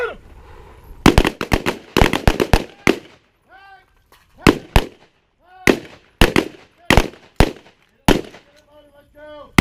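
Rifle gunfire during gunfighting training, with sharp single shots and rapid bursts fired in irregular clusters at close range, interspersed with shouted commands from an instructor.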